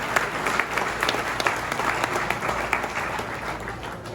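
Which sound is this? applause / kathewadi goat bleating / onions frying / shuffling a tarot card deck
applause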